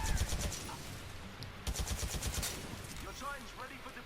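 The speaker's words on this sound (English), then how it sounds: "it's micro missiles and it's like the only handheld one in the game" Micro missiles fire from a handheld launcher in a shooter game, a rapid volley of sharp launch bursts and crackling blasts, a pause, then another volley with impacts trailing off.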